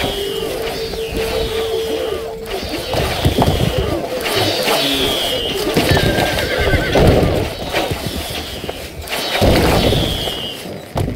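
In the video game Stronghold Crusader, horses whinny loudly several times over a steady clatter of galloping hooves. Thuds and battle noise sit underneath, and a voice speaks.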